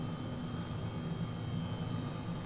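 An H135 helicopter flies in Microsoft Flight Simulator 2020 as a steady, faint, even rotor-and-engine drone with no pauses.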